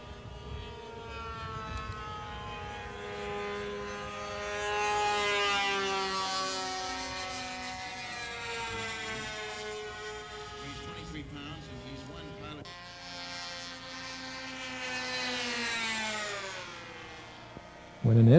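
A radio-controlled twin-engine Hornet model plane flies fast, its high buzzing engine drone rising and falling steadily as it passes overhead and away.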